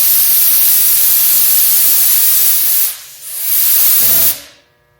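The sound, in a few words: spray gun spraying clear coat on car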